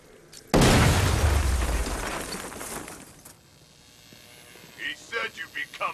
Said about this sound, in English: Get close and apply the explosive directly to destroy that wall.